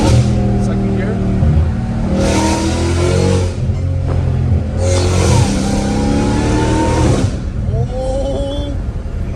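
A Dodge Hellcat Redeye fitted with catless exhaust pipes revs hard in second gear, two loud roaring surges of engine noise with a throaty low rumble, while people talk and exclaim over it nearby.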